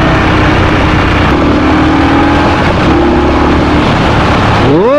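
An Indian Scout 139 cruiser motorcycle roars loudly and continuously under strong wind rush while accelerating, and its engine note climbs sharply in pitch at the end.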